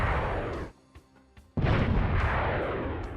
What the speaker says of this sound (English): So when you fire, it just makes that sound. That's like a cannon firing sound, almost like an explosion.